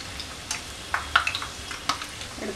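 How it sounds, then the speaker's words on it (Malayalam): Chicken stuffed snacks fry in hot oil with a soft, steady sizzle, broken by a few sharp clinks and scrapes of a utensil turning the pieces in the pan. "നമുക്ക് നമ്മുടെ സ്നാക്ക് ഇനി ഫ്രൈ ചെയ്തെടുക്കാം."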